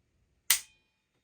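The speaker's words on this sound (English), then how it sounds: "What it should be doing is pushing all the way in" Malfunctioning Nambu Type 94 pistol's trigger and sear mechanism releasing, producing one sharp, loud metallic snap up close that rings briefly and fades, with silence on either side.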